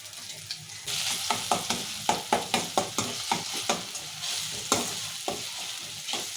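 A spoon stirs tomatoes, fresh coriander and ginger in a sizzling pan for desi-style pasta, giving a steady run of close scraping strokes over a constant frying hiss.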